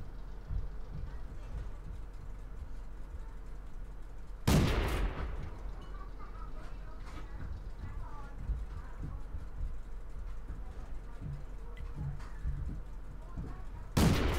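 A Renault FT AC tank gun fires in World of Tanks, two heavy booming shots about nine seconds apart over a steady engine rumble, with someone talking throughout.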